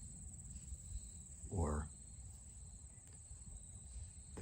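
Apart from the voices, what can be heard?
crickets chirping outdoors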